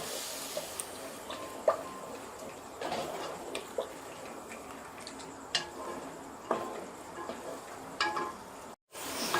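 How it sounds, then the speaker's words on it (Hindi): Yogurt masala for an okra and onion (bhindi pyaz) dish fries in a pan with a soft, steady sizzle, broken by faint scattered ticks and stirring clicks, with no talking. "दही भी हमारी फ्राई हो गई"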